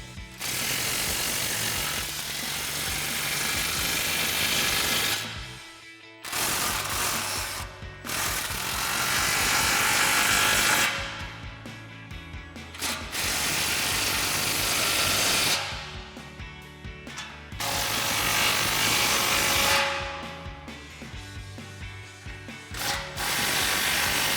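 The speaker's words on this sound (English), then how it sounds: "then we'll go ahead and tighten down these two clamps" Impact wrench tightening exhaust clamps on a 2019-2024 Silverado or Sierra 1500 Borla S-Type dual exhaust, long loud hammering bursts of several seconds each separated by short pauses.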